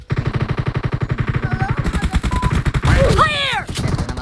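Gunfire in PUBG Mobile, including a shotgun, rattles out as a loud, steady stream of rapid shots for several seconds, with brief whooshing effects near the end.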